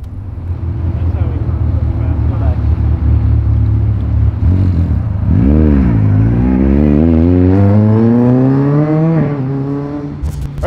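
Supercharged Caterham 620R, a lightweight street-legal car built like an oversized go-kart, drives at close range with a steady loud engine drone that climbs in pitch as it accelerates through rising gears.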